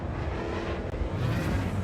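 Ship engines in the Star Citizen video game give a steady, loud mechanical drone with a slight rise in pitch, close and continuous, with no voices over it.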